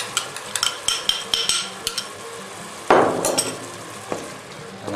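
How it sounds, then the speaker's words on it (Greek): Chopped tomato being stirred into a pot of octopus, with scattered clinks and scrapes of a utensil against the pot, then a louder burst of sizzling as it hits the heat, close up and without speech. "Ανακατεύουμε λίγο."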